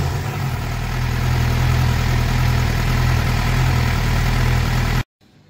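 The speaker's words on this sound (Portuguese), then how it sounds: "O escape também aqui com o som, ó. Parado." A Suzuki GSX-R750 motorcycle engine, freshly fitted with new spark plugs after misfiring, idles loudly and steadily with a low, even exhaust rumble, then cuts off abruptly near the end.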